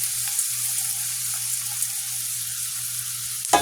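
Onions frying in oil with rock salt added, a steady close sizzle with a faint low hum underneath and a brief clatter at the very end.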